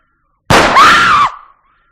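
A single rifle shot cracks out loud and close, then rings and decays into silence within about a second, with nothing else heard around it.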